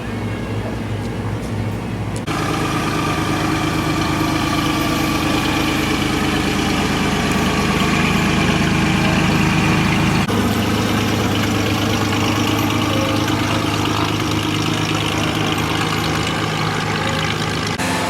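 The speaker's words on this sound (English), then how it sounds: "You can tell the engines are barely ticking." Aircraft engines idle throttled back at an airfield fly-in, a steady low droning hum with a tonal whine layered on top, loud and close, shifting slightly in pitch partway through and continuing without a break.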